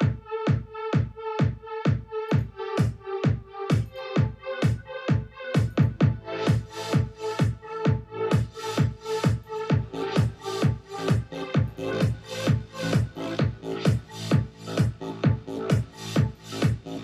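A trance kick drum thumps in a steady, fast four-on-the-floor pulse, with a synth melody pumping and ducking in time with each hit, loud and continuous with no voices.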